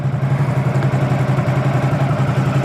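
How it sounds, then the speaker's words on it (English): Brand-new Ducati Supersport S motorcycle engine running steadily at idle, a close, even low thrum with a faint mechanical clatter throughout, no talking. "I'm riding a Ducati Supersport S, and this is my first impression"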